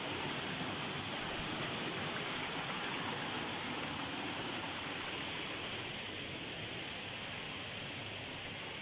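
Steady roar of rushing water from an abundant stream or waterfall in a natural setting, constant and fairly close throughout with no voices.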